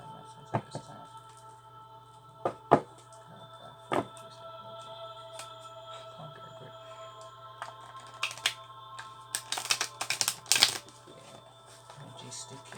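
Tarot oracle cards are handled and shuffled in a quiet room, heard as scattered soft flicks and clustered riffling bursts that grow busier toward the end over a faint steady hum.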